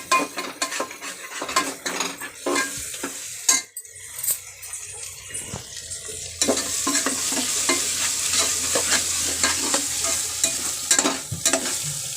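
Mutton masala frying and being stirred in a pan for mutton curry, with steady close sizzling, frequent utensil scrapes and clinks against the pan, and the frying growing louder and denser partway through; no talk.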